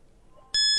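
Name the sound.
quiz show buzzer beep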